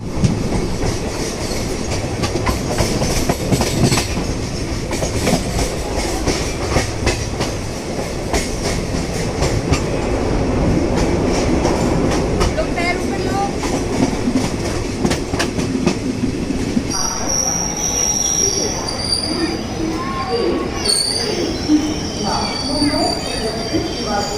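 The Sewagram Express, an Indian passenger train with old ICF coaches running between Mumbai and Nagpur, rolls loudly along the rails with a steady rumble, wheel clatter and occasional squeals, heard continuously from on board.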